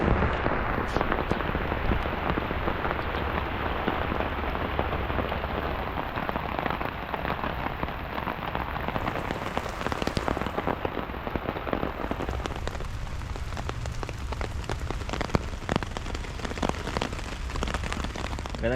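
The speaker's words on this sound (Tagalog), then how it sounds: "At nagising tayo kasi may naririnig tayong patak ng ulan." Rain drumming steadily on a camp shelter during a camping trip in Dingalan, with close scattered drips and patters over a constant wash of falling rain, no voices.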